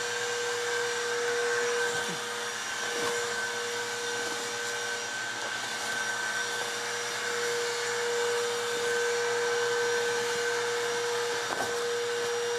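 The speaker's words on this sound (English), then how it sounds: "Do not turn off the vacuum or let the hose get pulled out of the" A vacuum cleaner draws air out of a duffel bag through a hose in a hole in the bag, as part of a Lovesac shrink kit. It gives a loud, steady whooshing hum that runs without a break.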